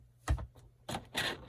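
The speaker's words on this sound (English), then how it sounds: "now you're going to take your scissors, just like you would if you were making your regular envelopes, and you're going to cut these little divots right here" Scissors snip small divots out of a paper envelope, producing a few quick, crisp cutting crunches at close range in an otherwise quiet room.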